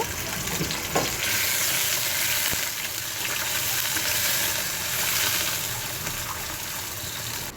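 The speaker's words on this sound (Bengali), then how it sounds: "চিংড়ি মাছগুলো ভাজা হয়ে গিয়েছে।" Shrimp fry in a little oil in a wok, a loud, steady, close sizzle with crackling that holds throughout and has no talk over it.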